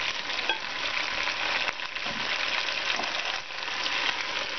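Browned ground meat and diced potato frying in a pot for cabbage roll soup, a steady close sizzle with occasional stirring scrapes and no talk.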